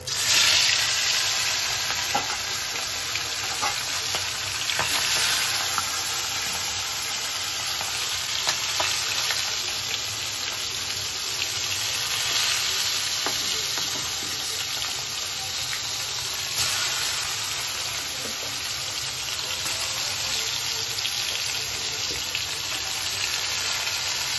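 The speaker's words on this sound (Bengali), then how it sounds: "এখানে আমি মাছগুলো একটু ভেজে নেব" Pieces of snakehead (shol) fish frying in hot oil in a pan, a loud, continuous, dense sizzle that holds steady throughout with no talking.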